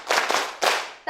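A group of women claps together on cue, but the single clap comes out ragged as a few separate bursts instead of one sharp hit.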